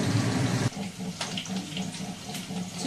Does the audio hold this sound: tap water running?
yes